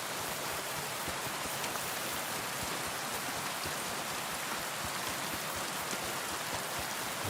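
Steady rain pours down in the video game Kingdom Come: Deliverance II, a dense, even hiss of drops hitting surfaces that continues throughout with no voices.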